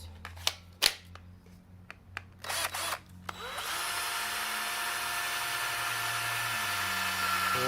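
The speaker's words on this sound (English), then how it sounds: "I got just a little drill bit." A small bit in a power drill bores into a rabbit hutch, starting with a few short bursts and clicks, then settling into a steady, continuous whine that runs close and loud to the end.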